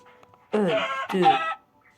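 A chicken in the Minecraft video game clucks twice in quick succession, two loud, close, squawky calls against near silence.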